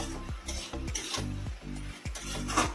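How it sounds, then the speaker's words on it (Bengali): Spice masala frying and being stirred in a pan over high gas for a prawn and kakrol curry, with repeated scraping strokes of the spoon over a steady close sizzle. "মশলা দিয়ে আমি আরেকটু কষিয়ে নেবো, গ্যাসটা একটু হাই করে দেবো"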